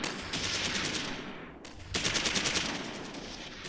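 Sustained automatic gunfire and cover fire in the World War II strategy game Close Combat 3: The Russian Front, dense rapid bursts at a steady distance, with a brief lull midway before the shooting resumes.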